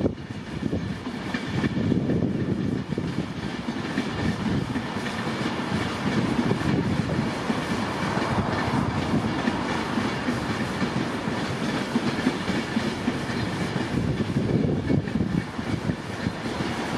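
A train rumbles steadily past on the rails at Carlisle, a continuous loud rolling roar with faint clickety-clack from the wheels, no voices.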